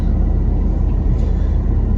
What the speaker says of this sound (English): we are behind a garbage truck as I'm driving